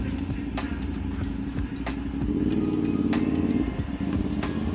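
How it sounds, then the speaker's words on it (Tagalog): Street traffic heard from a CFMoto motorcycle at school lunch break, a steady engine drone with a louder swell midway and passing vehicles around it. "Traffic ngayon"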